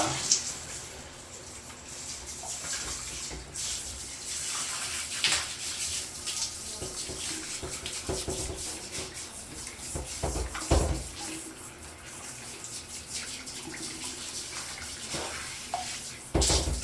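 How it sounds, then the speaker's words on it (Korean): Water from a handheld shower head rinsing a bathroom washbasin, a steady broadband splashing wash that runs continuously, with a few louder spurts and knocks along the way. "그리고 샤워기를 통해서 세척을 진행해 줍니다."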